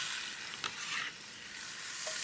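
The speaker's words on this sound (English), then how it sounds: "in the drippings, the little bit of pork fat from the top of the rib rack, we're going to add 1 large or a couple of medium onions" Onions sizzle loudly in pork fat drippings rendered from a rib rack, a dense close hiss with a couple of brief stirring scrapes.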